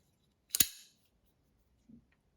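A Demko AD20S lightweight titanium folding knife gives one sharp metallic snap as it flicks open or shut, followed about a second later by a faint soft click, with silence around both.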